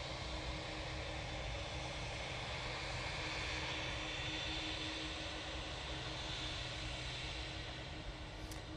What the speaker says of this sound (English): 777 is on its taxi out towards us.